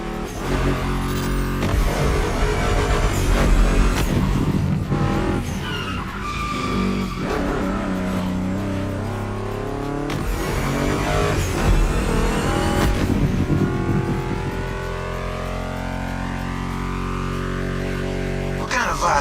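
Ford Mustang GT muscle car engine revving loudly through gear changes, with rising and falling pitch sweeps, tire squeal and skidding layered under music riffs, sustained and close.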